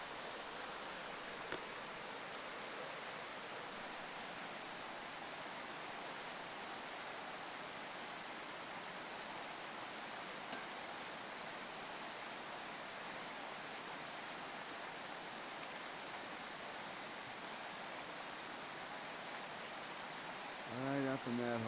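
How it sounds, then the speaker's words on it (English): River flowing near a gold dredging site in Maine, a steady broadband rush of moving water heard close, with a brief thump right at the end. "Here's the river."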